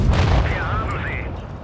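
Tank cannon shell from a WZ-113 slamming into an E 50 M in World of Tanks Blitz, one loud booming blast with a short ringing metallic whine as it fades, close and forceful.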